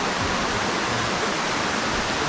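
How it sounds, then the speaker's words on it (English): Steady roar of a waterfall at Mt. Carmel in Grenada, a broad, even rush of falling water heard from a little way off with no other sounds. "You can hear the waterfall in the distance."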